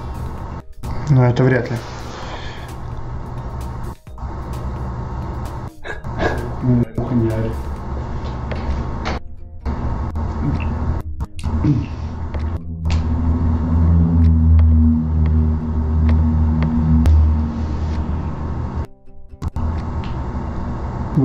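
Cars drive along the street outside and make a continuous low rumble with passing engine drone. The sound is fairly loud and steady and sits under someone talking, with a few brief gaps.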